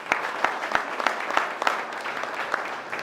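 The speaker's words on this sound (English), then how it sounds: "Let's give Pop Diesel a round of applause." An audience at a mosque gathering applauds Pop Diesel, steady mid-level clapping with a few sharper individual claps standing out throughout.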